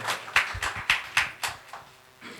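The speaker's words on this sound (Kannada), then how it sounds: "ಒಂದು ಜೋರದ ಚಪ್ಪಾಳೆ ಬರಲಿ ಮುನೇಶ್ ಅವ್ರಿಗೆ" Hands clapping for a singer at a singers' stage gathering: around eight distinct, fairly evenly spaced claps, close by and moderately loud, with no talk over them.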